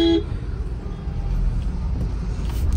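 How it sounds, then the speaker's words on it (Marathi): Heavy road traffic rumbles in a jam on the old Goa road, with a short car horn toot right at the start, then a continuous low engine and tyre drone from nearby vehicles including buses. "ट्रॅफिक तर एवढं आहे की भयंकर वैताग आला आता"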